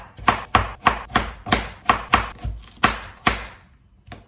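A kitchen knife slicing an Awaji Island onion on a cutting board, about a dozen sharp, close knocks in a steady rhythm, each with a short crisp tail, fading into quiet at the end.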